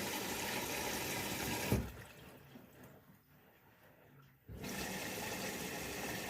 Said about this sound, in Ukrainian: тепер вода звідси лється